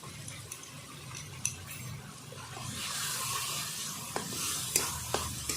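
Green chili paste being stirred into taro greens with shrimp in a pan, a soft steady sizzle with scraping stirs and light clinks of a utensil, fairly quiet and close.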